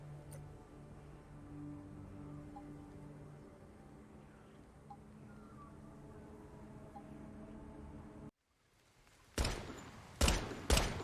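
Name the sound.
gunfire at a shooting range in video game Once Human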